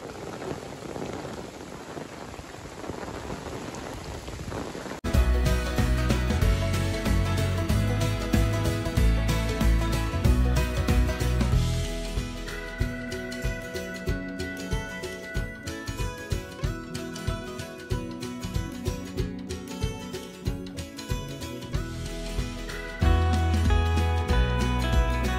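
Heavy rain pours in a forest as a dense, steady hiss for the first few seconds, then loud music with a strong beat covers it for the rest.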